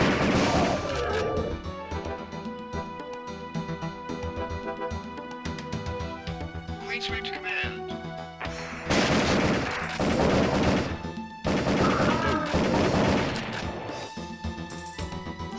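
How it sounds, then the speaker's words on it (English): Rocket launcher fire in the PS1 shooter Area 51 comes as loud, dense bursts of blasts and explosions, with sharp crashing impacts and brief lulls between heavy volleys. "that's a rocket launcher"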